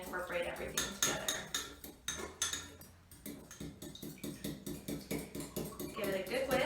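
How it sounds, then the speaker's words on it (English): Whisk beating a mustard salad dressing in a bowl or shaker, a rapid, rhythmic clatter of metal against the container repeating steadily throughout, close and continuous with only a brief lull midway. "Give it a good whisk."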